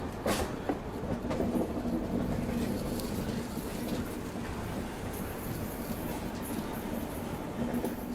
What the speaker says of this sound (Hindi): देखिए डायमंड क्रॉसिंग को धीरे धीरे अपनी ट्रेन पार कर रही है।